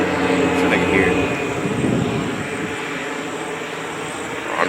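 A fixed-wing airplane passes overhead above a cemetery at night, its broad engine drone steady and moderately loud throughout, with faint talk mixed underneath.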